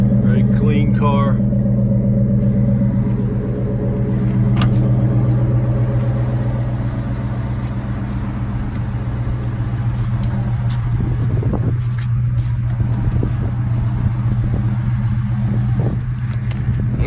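A Dodge RT car with dual exhaust idles steadily nearby, its low engine rumble running throughout while someone talks over it.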